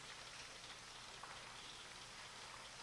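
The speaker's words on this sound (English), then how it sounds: "rain hitting the ground" Steady rain hitting the ground makes an even, soft hiss that continues unbroken throughout, with no voices.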